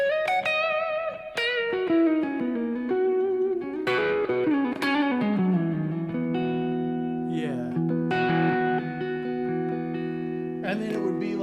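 An electric guitar plays through a Dirt Dog distortion pedal: sustained, gritty single notes and slides, with a few bends and struck chords, loud and close with no talking.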